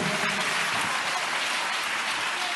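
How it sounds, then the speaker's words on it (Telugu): Church congregation at Hosanna Mandir, Machilipatnam clapping loudly and continuously, a dense steady wash of hand claps filling the room with no gaps. "కొట్టుకో చప్పట్లు గట్టిగా ప్రభు"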